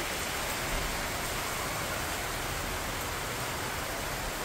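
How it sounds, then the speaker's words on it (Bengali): Heavy rain pours steadily in a dense, unbroken hiss that fills the whole stretch, loud and even with no voices. "এইরকম বৃষ্টি পড়ছে, চরম বৃষ্টি।"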